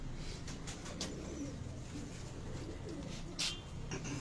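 Pigeons coo in soft, low, repeated murmurs over a steady background hum, with a few faint chirps and brief louder clicks scattered through.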